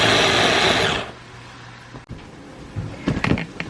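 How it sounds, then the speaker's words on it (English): A small kitchen food processor whirs loudly while pulsing tomatoes, one steady burst that cuts off after about a second, followed by quiet and a few faint clattering knocks. "just put them in a little food processor thing and kind of pulse it up"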